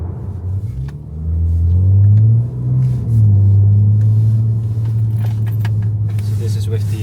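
BMW M3 G80 with a catless downpipe and titanium equal-length X-pipe catback exhaust in efficient mode with valves closed, cruising off throttle: a steady low drone and rumble throughout, swelling briefly early on, with no talk over it.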